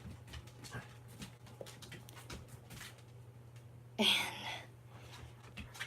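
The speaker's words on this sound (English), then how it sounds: "I'm sorry for the dogs in the background." Faint dogs bark and whine in the distance behind a low steady hum, with one louder bark standing out midway.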